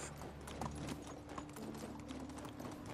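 Steady clip-clop of horse hooves at a brisk trot in the video game Medieval Dynasty, continuous and even, with a faint background hum.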